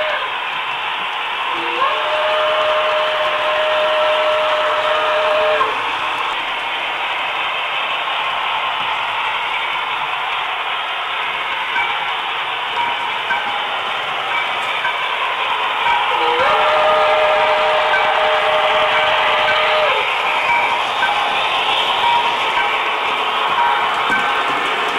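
An HO-scale model steam locomotive whistle blows twice, each a steady tone lasting a few seconds, over a constant hissing, rumbling background.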